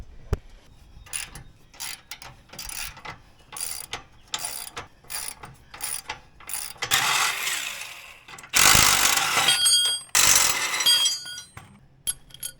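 Ratchet wrench loosening the four bolts on a trailer leaf spring bracket: rhythmic clicking strokes in short bursts, close, growing denser and louder toward the end.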